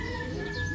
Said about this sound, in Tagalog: So ito ay hen.